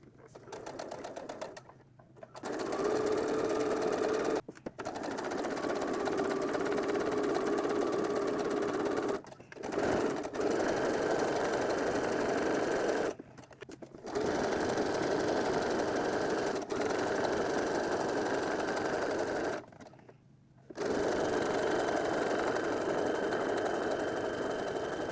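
A home sewing machine runs in several long steady bursts with brief pauses between them, stitching a garment seam and reversing into a back stitch at the end, loud and close with no talk over it.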